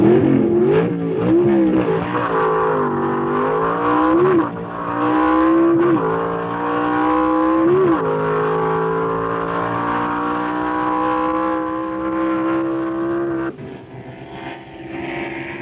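Vintage pro stock drag racing car driven by Ronnie Sox of the Sox and Martin team, its engine roaring loud and close through rising gear pulls with brief dips between shifts, sustained high-rpm drone throughout.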